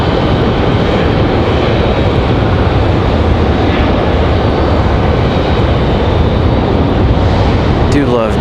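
A JetBlue airliner in orange-stripe livery at Raleigh-Durham International roars steadily and loudly as a broad, continuous engine rush with no clear voices.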